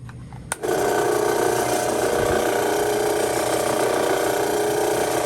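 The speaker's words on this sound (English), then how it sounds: "I'm using a 1 inch drill bit, so that should fit perfectly over that" A steady, loud mechanical whir of a power drill with a 1-inch bit running continuously after a brief start, with a grinding, rattling texture throughout.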